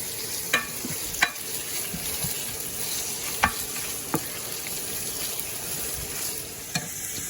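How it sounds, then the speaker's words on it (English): Chopped onions sizzle steadily in a hot pan, with a few sharp scrapes and knocks as a wooden spoon stirs them; the frying hiss stays constant and fairly loud throughout. "You want to hear that sizzling right away."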